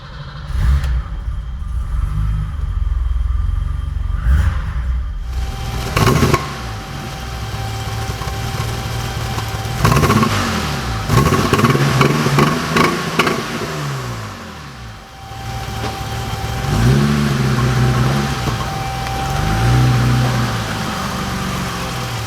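A BMW E28/E30 engine with a recently replaced in-tank fuel pump runs close by, its idle surging and dipping with repeated rises and falls in revs over about twenty seconds, with no talking.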